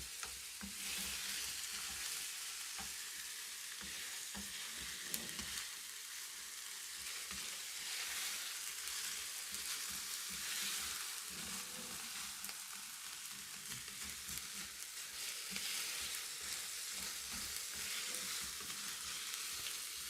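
Garlic and ginger paste frying in a pan for a boneless chicken handi, a continuous close sizzle with busy stirring and scraping, no talking.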